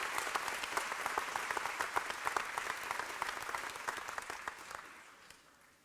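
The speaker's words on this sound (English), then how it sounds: "Everybody give them a big round of applause." Graduates at the 48th commencement of Butler County Community College receive a big round of applause. Many hands clap at a distance, fairly quiet and sustained, with sharper individual claps standing out before it tapers away.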